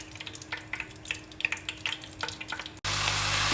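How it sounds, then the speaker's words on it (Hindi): Ginger-garlic paste sautéing in hot oil in a pan, with a steady soft sizzle and scattered stirring crackles. Near the end the sound cuts to a louder, denser frying hiss. "यहाँ हमने इसमें अदरक लहसुन का पेस्ट शामिल कर दिया है और इसको हल्का सा सौते करेंगे"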